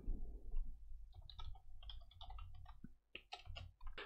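Quiet clicking of keys on a computer keyboard, irregular bursts of typing with short pauses, close and soft.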